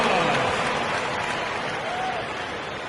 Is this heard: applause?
yes